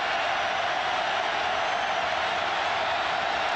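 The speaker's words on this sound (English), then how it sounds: "The crowd trying to help now." Spectators at a 2009 Auburn at Tennessee college football game in the stadium roar in a dense, continuous crowd wash, loud and steady without breaks.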